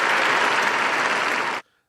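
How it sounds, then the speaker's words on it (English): A burst of loud, dense clapping from a small group fills the space for about a second and a half, then stops abruptly into silence. "Clapping it up for y'all."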